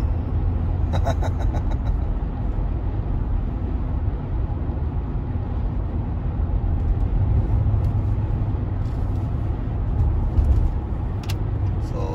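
Car traffic rolling along Highway 1, a continuous loud road rumble and tire roar heard from inside a moving vehicle, with no voices.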